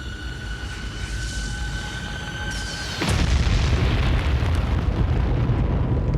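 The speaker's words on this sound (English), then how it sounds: "A falling rock in the shape of an asteroid or comet slammed into Central Australia." A falling asteroid or comet slams into Central Australia: a tonal drone cuts off into a sudden deep booming blast, which then rolls on as a loud, sustained rumble and roar with no talk.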